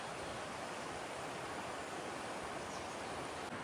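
A small village river in the Kokan region of Maharashtra, a steady, even rush of flowing water, soft and continuous with no voices.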